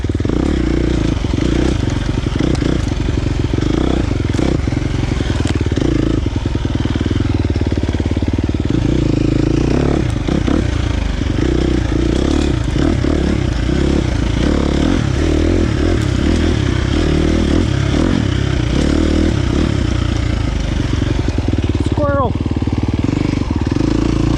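A KTM 350 XC-F dirt bike's engine runs loud and rough for the whole stretch, tuned with a Vortex ECU and flaming out repeatedly, with sputtering, uneven pops and clatter under constant engine noise.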